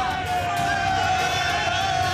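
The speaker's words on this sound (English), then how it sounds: "you have customers booing him for coming back in here" Bar customers in a crowded pub boo and jeer a big man walking back inside, a steady wash of crowd yelling and hubbub with no break across the clip.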